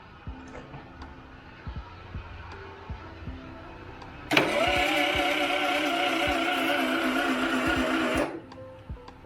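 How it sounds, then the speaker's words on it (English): A 1967 VW Type 3 Squareback is cranked by its starter for about four seconds, a loud, steady whirring drone that starts and stops abruptly, with faint clicks and background noise before and after. "So let's crank her up."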